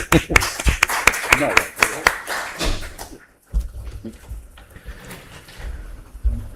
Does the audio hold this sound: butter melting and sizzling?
no